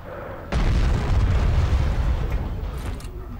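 A sudden loud explosion of a tank in the video game Heroes and Generals booms and rumbles, its heavy roar decaying slowly over a few seconds.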